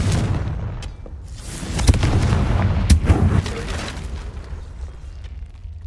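Repeated fiery blasts of the Confringo spell in Hogwarts Legacy, a series of booming bursts and crackling impacts over a low rumble, loud and close, with another cast peaking near the middle.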